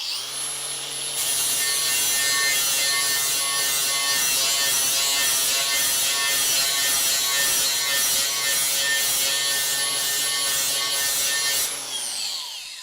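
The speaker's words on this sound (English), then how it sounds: "So, small practical grinder, and just go quickly over that." A small handheld grinder sharpens a tool edge, a loud continuous whining grind with a high-pitched ring that holds steady for about eleven seconds before winding down, without talk.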